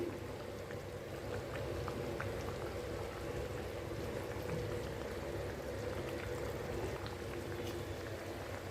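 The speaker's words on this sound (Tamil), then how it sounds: "குழம்பு நல்லா கொதித்து வரட்டும்" Spicy Tamil kara kuzhambu with brinjal and broad beans boils steadily in a pot, a dense, continuous bubbling and gurgling that runs unbroken at an even level.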